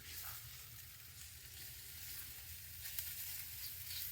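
Shallots and garlic sizzle steadily in a pan, a soft, even hiss with no talk, faint and fairly distant throughout.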